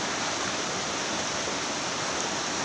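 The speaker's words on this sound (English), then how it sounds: "And see this river." A river near Robber's Cave in Dehradun, swollen in the rainy season, rushes in a steady broadband roar. The flow is continuous and fairly close, with no voices over it.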